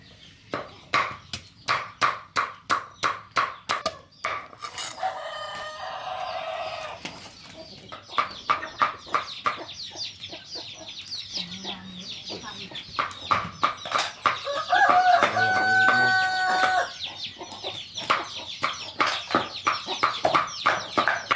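Farmyard chickens cluck in quick repeated bursts, with a rooster crowing partway through and bird calls mixed in, fairly close and continuous over a long stretch, with no talk over them.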